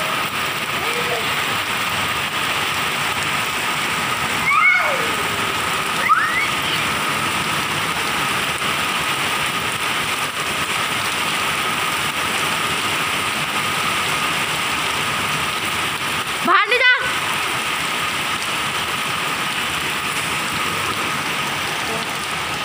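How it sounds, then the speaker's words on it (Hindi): Heavy rain pours down steadily and loudly, a dense hiss throughout, with a couple of brief passing vehicle or mechanical sounds. "तो बहुत बारिश हो रही है फ्रेंड, बहुत ज़्यादा।"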